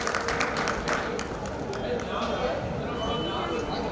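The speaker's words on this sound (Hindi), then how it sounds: "बहुत सुंदर, बजाओ जोरदार तालियां।" A crowd at a Jain Panchkalyanak religious festival clapping loudly, a dense burst of many hands with sharp claps early on that settles into a sustained roar, with talking mixed underneath.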